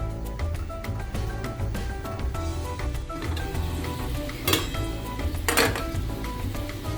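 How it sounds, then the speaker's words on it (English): A spoon scraping and clinking against a pot as rice for chicken dum biryani is stirred, with steady clatter over a cooking bed of sizzle and two louder metallic scrapes near the end; no voices. "Now give the rice a quick stir."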